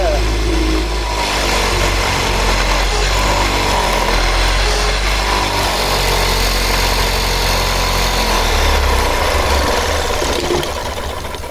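A 3D printed air turbine spins fast with a steady whirring drone and a scraping rub from something catching, continuous and close, while people talk over it.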